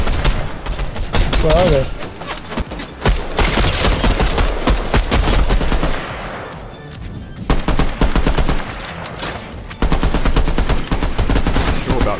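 Rapid bursts of charge SMG gunfire in Fortnite crackle loudly and repeatedly across most of the stretch, broken by a short lull, with players talking over the shooting.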